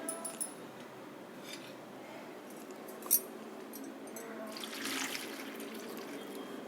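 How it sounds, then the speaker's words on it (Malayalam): Water running and splashing into a cooking pot while a jackfruit-seed and drumstick curry is being prepared, a steady quiet trickle swelling toward the end, with a brief clink partway through. "ഇനി വെള്ളം ഒഴിക്കാം."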